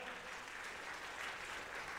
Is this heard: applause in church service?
yes